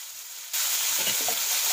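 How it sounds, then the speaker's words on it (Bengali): Chopped onions drop into hot oil spiced with whole cumin and start a loud, steady sizzle and crackle after a brief quiet moment, with stirring and no voices. "পেঁয়াজগুলো এবার ভালো করে ভেজে দেবো লাল লাল করে।"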